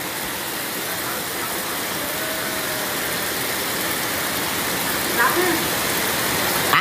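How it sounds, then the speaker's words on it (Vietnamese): Heavy rain pours steadily during flooding in central Vietnam after a storm, a dense continuous hiss close by with a faint voice briefly audible near the end. "Rồi mưa tiếp nữa rồi mọi người ơi, lượng mưa khá là to luôn mọi người ơi."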